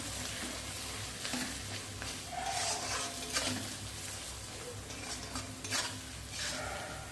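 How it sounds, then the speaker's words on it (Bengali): Fish roe, rinsed in hot water with lemon, stirred in a frying pan, with steady sizzling and frying under scraping utensil strokes against the pan, close and continuous with no talk. "সেই মাছের ডিমটা একটু নাড়বো"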